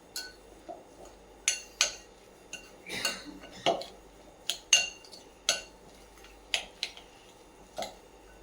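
A spoon mixing spiced green pea cutlet mixture in a bowl with a regular series of sharp metallic clinks and taps against the rim, close and fairly quiet.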